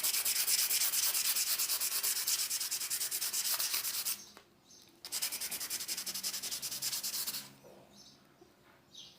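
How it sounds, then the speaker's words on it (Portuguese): Hand sanding of painted wood to give an aged finish, a close, loud rhythmic scratchy rasp in quick repeated strokes, pausing briefly twice before resuming more lightly. "E em volta, assim, a gente deixa um pouco menos lixado"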